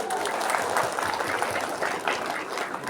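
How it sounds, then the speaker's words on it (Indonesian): Applause at a Monday school flag ceremony, a steady patter of many hands clapping together, moderately loud and sustained for a few seconds. "Tepuk tangan untuk kita semuanya."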